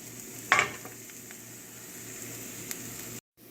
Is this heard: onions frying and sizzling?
yes